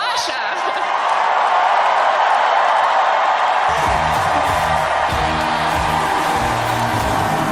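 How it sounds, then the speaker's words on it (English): A crowd at a victory night celebration roars with sustained, loud applause and cheering for the organizing director, a dense wash of noise that keeps going as thumping music joins in partway through. "please join me in giving her the longest and loudest round of applause"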